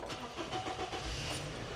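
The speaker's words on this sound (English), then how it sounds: "He's got one of these little, this is a Mitsubishi, but it's got a flatbed on it." A small Mitsubishi truck with a flatbed runs its engine at close range, a steady mid-pitched motor rumble with slight rises and no talk.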